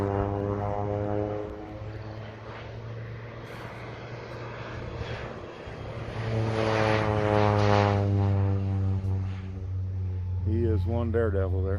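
A low-flying propeller airplane over a farm with hens, its engine drone swelling louder as it passes close overhead, steady hum with a rising, shifting pitch near the end.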